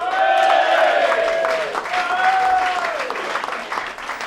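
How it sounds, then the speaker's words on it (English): Loud audience applause with some cheering fills the room as a comedian is welcomed onto a stand-up stage, a dense steady clatter of hands over about four seconds. "clap your hands until they go bloody"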